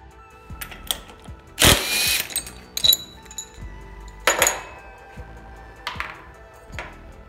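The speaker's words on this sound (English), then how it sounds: "they use a 19mm socket to pull the flywheel nut" Metal tools clinking and scraping while working on the flywheel nut of a Predator 212 cc go-kart engine, with scattered sharp clicks and one louder burst of ratcheting noise, close and without talk.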